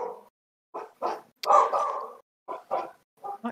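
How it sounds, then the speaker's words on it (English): Neighbourhood dogs barking outside, several short bark bursts in uneven clusters with pauses between, muffled and at moderate distance. "the neighbor dogs are out there. Must bark at all the things."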